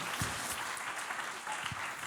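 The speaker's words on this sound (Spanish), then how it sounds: "Un aplauso, ¿no?" Audience applause in a church service, a steady spread of clapping filling the room for a couple of seconds at moderate, fairly distant level.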